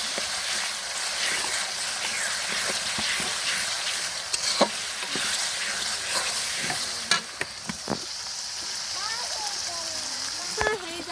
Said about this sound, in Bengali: মশলার সাথে তেলটা ভালোভাবে নেড়ে মিশিয়ে নিতে হবে